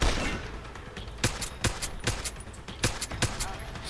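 Sniper rifle fire in Deus Ex Human Revolution at a mercenary camp, with a rapid string of sharp, loud shots at irregular intervals, some clustered close together, over a dense game background.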